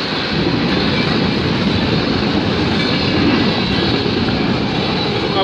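A CP freight train with a BNSF locomotive in its consist thunders past at close range, a loud, unbroken roar of wheels and rolling stock with rhythmic clatter throughout.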